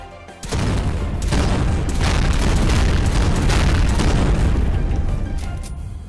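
An MI-34 ion arm cannon fires in a modded Fallout 4 game, a sudden loud booming blast followed by a sustained roaring, crackling discharge that slowly fades over several seconds.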